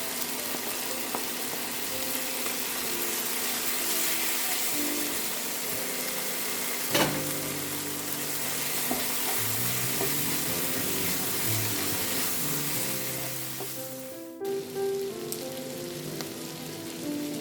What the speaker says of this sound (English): Let it fry just a bit.